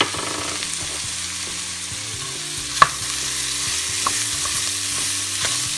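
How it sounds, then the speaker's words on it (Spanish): Onion hits a pan of shrimp, garlic and butter and fries with a steady sizzle, with intermittent stirring and one sharp utensil clink, close and without talk. "Aquí le vamos a poner nuestra cebolla."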